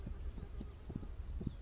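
Horse hooves plod at a slow walk in the video game This Land Is My Land, a soft, steady series of low thuds over a constant outdoor ambience.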